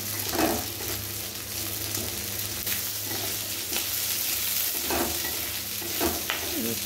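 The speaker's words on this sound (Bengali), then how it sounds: "নাড়াচাড়া করে নেওয়ার পরে আর ওর মধ্যে দিয়ে দেব পেঁয়াজগুলো। পেঁয়াজগুলো দিয়ে একটু নাড়াচাড়া করে নেব।" Onions stirred into frying cauliflower for chilli cauliflower, with a steady close sizzle under repeated scraping strokes of a spoon in the pan, and no voices.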